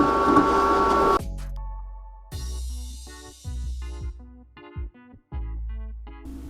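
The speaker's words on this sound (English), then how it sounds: "See, right now it's cutting the vinyl." A vinyl cutter machine cuts a vinyl decal with close, stop-start whirring servo runs and short rising and falling motor tones, separated by brief pauses.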